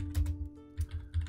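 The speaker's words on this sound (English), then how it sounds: "let me just type a method here quickly" Quick bursts of computer keyboard typing at close range, a few clustered keystroke runs with short pauses between them over a steady low hum, no voices.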